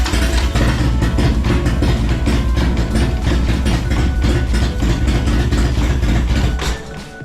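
A Harley-Davidson motorcycle engine chugs at idle with no throttle, loud and close with a rough, uneven beat that sags toward the end as it begins to die.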